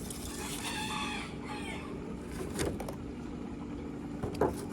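Roosters crow over and over near a farmyard, with drawn-out calls early on and more faint crowing and clucking further off under steady outdoor background noise.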